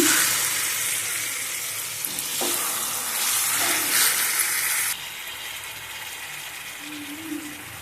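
Chicken curry frying in oil in a kadai, a steady dense sizzle that drops to a quieter bubbling hiss partway through, with occasional stirring scrapes, close and loud.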